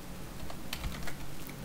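Keys clacking on a computer keyboard in a Linux terminal session, a short burst of close, crisp taps with no talking.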